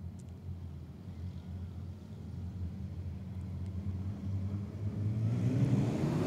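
Wingless sprint cars race at Kingaroy Speedway, their engines a distant, rumbling drone that swells and grows louder toward the end as the pack comes closer.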